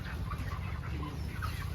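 Broiler chickens on a poultry farm cluck steadily as a dense flock over a constant low background hum, heard at moderate distance.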